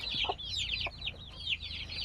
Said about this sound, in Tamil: ஒரு 25 குஞ்சு இருக்குது